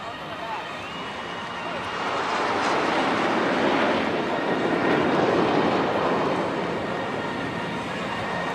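Formation of aircraft at the Chennai air show passing overhead as a broad, swelling jet roar that builds and fades gently, heard from a distance under a public-address voice and crowd noise.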